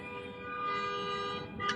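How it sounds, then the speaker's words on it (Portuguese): Car horns honk in snowy street traffic, a steady blaring tone held for nearly two seconds with a brighter blast near the end, over passing cars. "Segue buzinando."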